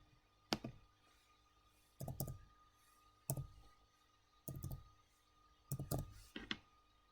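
Keys tapped on a computer keyboard to enter a game PIN for a Kahoot! quiz, heard as a few short separate bursts of clicks spaced over several seconds, fairly quiet and close.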